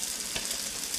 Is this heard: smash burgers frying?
yes